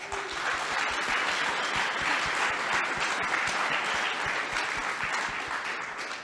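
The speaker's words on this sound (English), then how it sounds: "This deserves a round of applause" Keynote audience applauding steadily throughout, a dense sustained wash of many hands clapping at even loudness with no talk over it.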